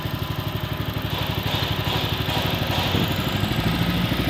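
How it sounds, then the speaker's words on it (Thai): A Honda 5.5 hp engine on a walk-behind tractor runs in reverse gear, giving a steady, close, rhythmic chugging drone with a constant low pulsing throughout and no speech. "บีบปุ๊บรถก็วิ่งนะครับอันนี้เป็นเกียร์ถอยนะครับ"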